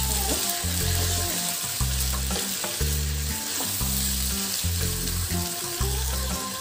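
Pieces of marinated desi chicken fry and get stirred in a hot pan, with a steady close sizzle and scraping stir strokes running throughout.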